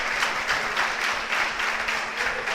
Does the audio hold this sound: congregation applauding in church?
yes